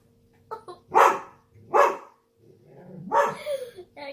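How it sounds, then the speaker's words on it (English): A dog barks three times at close range, loud separate woofs with short gaps, followed by a softer whine or yip near the end. "She barks at everything that she doesn't think belongs."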